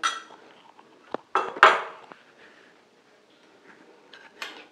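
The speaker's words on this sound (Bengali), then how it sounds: "এই চামচে 2 থেকে আড়াই চামচ মতো টক দই নিয়ে নিলাম" A metal spoon scoops thick sour yogurt, producing a few scattered, sharp clinks and scrapes against a dish, close by with quiet pauses in between.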